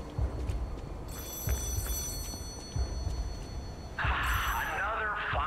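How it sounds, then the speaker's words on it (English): A telephone rings in the Lies of P video game, its high bell tone sounding in two separate bursts over low thudding steps and game ambience, with a voice talking during the second burst. "I hear a phone"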